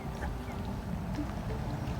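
Free-range ducks near a riverbank give a few soft quacks, fairly faint over a low background rumble.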